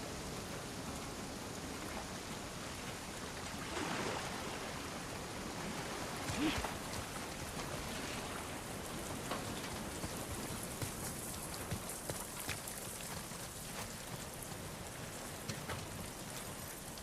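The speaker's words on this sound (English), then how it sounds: "Let's get out of the rain." Steady rain falls on surfaces nearby, a soft continuous patter with scattered droplets, fairly quiet and without talking.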